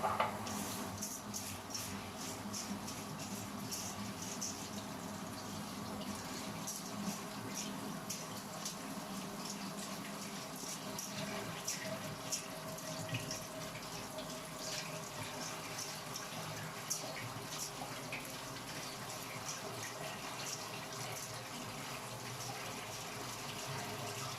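Tap water runs steadily into a sink while onions are washed, a continuous quiet hiss and splash with little change over the whole span, fairly faint and without talk.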